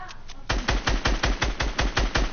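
Rapid automatic gunfire in a battle royale video game, about ten sharp evenly spaced shots in steady rhythm, loud and close, following a brief quieter lead-in.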